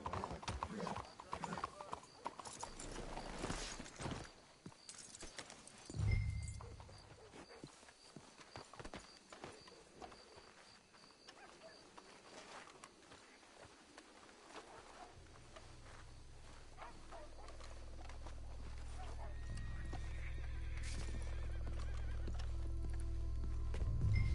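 Horses clip-clop steadily along a path in Red Dead Redemption II, with a whinny early on, hoof beats continuing throughout alongside ambient game noise and a rising low rumble toward the end.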